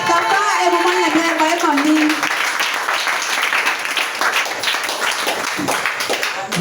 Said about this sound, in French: Est-ce que quelqu'un peut acclamer Jésus pour mon pasteur?